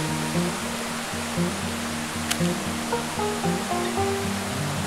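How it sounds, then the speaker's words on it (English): Steady rain falls outdoors around a cottage at AG Manggis, a continuous broadband hiss like a waterfall. A low engine or generator hum runs underneath, and a single faint click stands out partway through. "Hujan pula dah ha."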